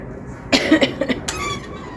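Several quick coughs in a row from a person with a fever, fairly close, followed by a faint breathy tail in a quiet room.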